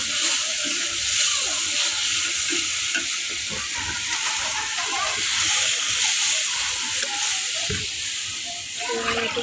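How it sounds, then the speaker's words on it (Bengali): Water poured into a hot cooking pan of spices for a hilsa fish and pointed gourd curry, producing a loud, continuous close hiss and bubbling sizzle throughout. "জল দিয়ে দিচ্ছি"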